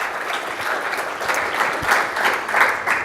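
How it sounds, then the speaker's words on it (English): An audience at a security conference applauds the AV volunteers, steady clapping from a mid-sized crowd that swells slightly toward the end, heard alone. "just to give them a round of applause"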